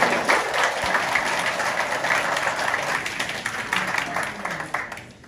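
Lively applause from a group of people, dense clapping that starts strong and gradually fades, with murmured voices mixed in.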